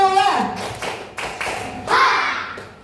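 A group of people in a classroom-style session clap on command in short rhythmic patterns of sharp, close hand claps, over loud, lively background voices.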